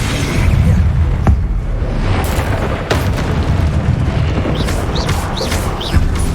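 Confringo fire spell blasts from the Hogwarts Legacy game, loud booming explosions and whooshing bursts layered over a dense rumbling battle bed, with sharp impacts recurring across several seconds.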